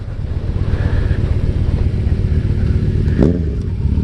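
A Kawasaki Z900 motorcycle engine drones steadily and loud at close range with a low throbbing rumble, and a brief rise in revs near the end.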